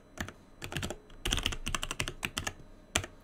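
A password being typed on a computer keyboard, with quick close key taps in short irregular clusters, clear and alone.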